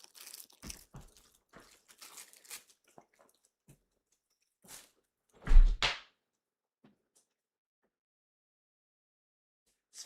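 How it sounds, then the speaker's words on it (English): A cat chews on plastic taken from the trash: scattered soft crinkles and crunches, then a louder, close crunching burst midway, followed by near silence. "Look at him chewing on plastic."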